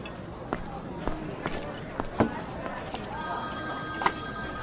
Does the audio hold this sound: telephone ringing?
yes